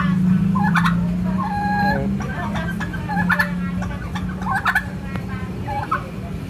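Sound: turkey

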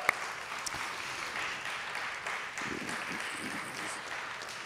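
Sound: applause for award recipients

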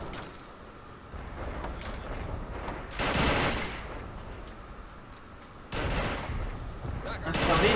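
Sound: cruiser firing 180mm guns offshore, from video game Men at War 2

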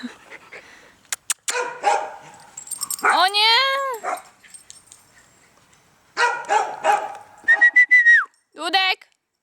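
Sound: dog barking and whining on a walk

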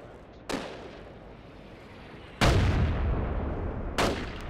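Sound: gunfire from a video game

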